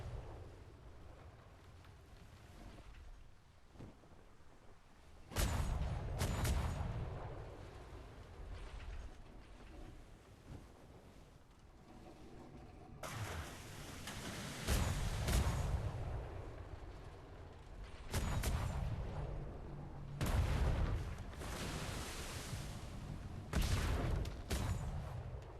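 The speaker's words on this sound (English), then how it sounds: "Turning us up to port side cannons." Heavy booming blasts of ship port-side cannon fire in the game Atlas, several loud rumbling bursts, with crackling volleys between quieter stretches of low background noise.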